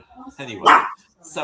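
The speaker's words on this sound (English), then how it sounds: "That's my dog barking, y'all." A pet dog barks in a home, a short sharp bark or yip heard close by alongside a person talking over it.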